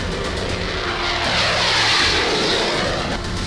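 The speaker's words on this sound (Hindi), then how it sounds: "कश्मीर के आसमान में लड़ाकू विमान MiG-29 हुंकार भर रहे हैं।" MiG-29 fighter jets of the Indian Air Force roar in the sky over Kashmir, a loud, continuous broadband jet rumble that swells slightly midway, heard on its own.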